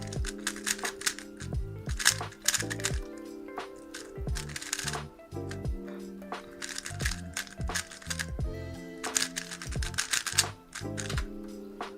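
An RS3M Super V2 MagLev speed cube, lubed and with tightened tension, clacks through a fast solve in rapid bursts of crisp plastic turns separated by brief pauses.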